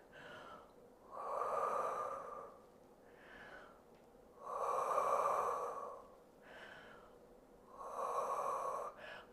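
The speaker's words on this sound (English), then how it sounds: "So 3 deep breaths here." Three deep, slow breaths during a standing Pilates stretch, each a long audible inhale and exhale heard close up and spaced a few seconds apart in a quiet room.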